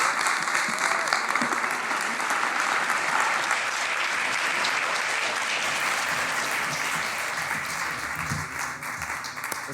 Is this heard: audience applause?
yes